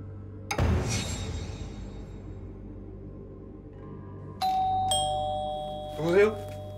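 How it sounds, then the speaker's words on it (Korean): A doorbell rings twice late at night in an apartment, the first chime near and loud, a second electronic ding-dong sounding a few seconds later, with a voice rising briefly at the end. "또 초인종이 울리는 거예요."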